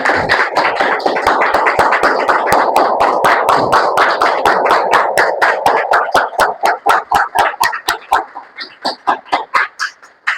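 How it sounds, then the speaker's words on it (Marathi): A church congregation claps in praise, dozens of sharp rhythmic beats in a fast steady pulse, loud and full at first, then thinning to fewer, more separated claps that fade toward the end. "येशूसाठी आपण टाळ्या वाजवू सगळेजण, जोरदार टाळ्या, जोरदार."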